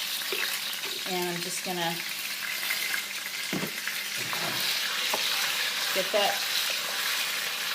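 A tablespoon of garlic sizzles and fries steadily in a pan, a close, continuous crackle as it is stirred, with someone speaking briefly over it.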